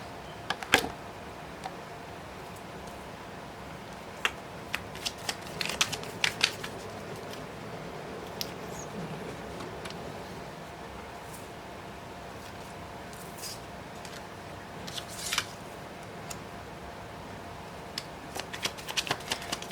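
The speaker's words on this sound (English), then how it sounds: "let me give the cards a really good shuffle" Tarot cards are shuffled in quick riffling bursts with short pauses between them, a soft, close papery sound at low volume, with no talking.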